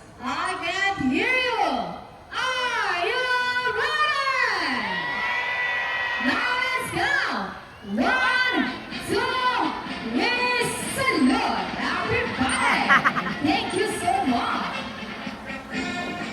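Loud crowd of adults and children at a sea lion show at Manila Ocean Park, cheering, whooping and shouting in repeated surging bursts with short pauses between waves.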